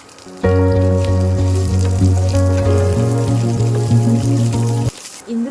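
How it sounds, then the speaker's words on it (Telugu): Chopped onions and dried red chillies frying in a pan, a loud steady sizzle with a low hum beneath, starting abruptly and cutting off near the end, close and without speech. "కట్ చేసిన ఉల్లిపాయ ముక్కల్ని టేస్ట్కి సరిపడా ఐదారు ఎండుమిరపకాయలు తీసుకొని ఫ్రై చేసుకుందాం"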